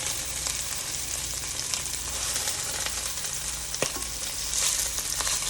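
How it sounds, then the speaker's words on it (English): Meatballs fry in a pan with a dense, steady sizzle, broken by scattered sharp pops and crackles and a brief surge of hiss near the end; close and fairly loud, with no talking. "Frying up the meatballs."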